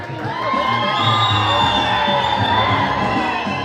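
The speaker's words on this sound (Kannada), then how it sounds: "ಇನ್ನೂ ಜೋರದ ಚಪ್ಪಾಳೆ" A large crowd at a welcome ceremony for a political leader cheers and shouts loudly, a dense sustained roar of voices with whoops swelling and holding throughout.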